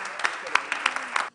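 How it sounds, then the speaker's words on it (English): Audience applause for a children's dance group on a kids' talent show stage, a dense burst of clapping with sharper peaks that cuts off abruptly after just over a second. "A round of applause for them."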